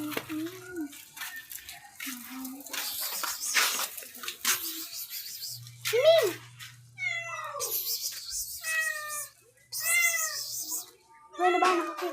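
A house cat meows several times in separate, drawn-out calls of changing pitch. The cat sounds close, with people talking and household clatter in between.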